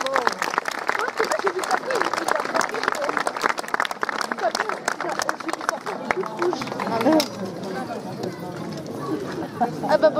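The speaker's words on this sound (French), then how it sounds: "Allez, on les applaudit bien fort." An audience at an evening show claps in a dense, sustained burst of applause lasting the whole stretch, with scattered voices and calls mixed into the crowd noise.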